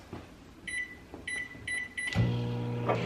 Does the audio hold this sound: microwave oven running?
yes